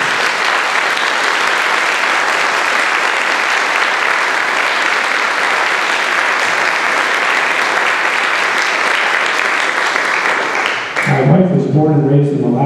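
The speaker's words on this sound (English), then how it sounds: "So if you could all please help me give them all another big round of applause" Audience applause for a wind ensemble at a holiday concert, a steady dense roar of many hands clapping for over ten seconds before cutting off into a brief bit of talk.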